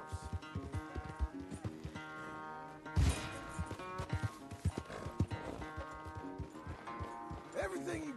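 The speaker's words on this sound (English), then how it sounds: "Good horse. Let me ride him a bit first." Horse hooves clip-clopping and a horse neighing in the video game Red Dead Redemption 2 at a ranch corral, a steady close hoof rhythm with a sharp whinny midway, mixed under speech and background music.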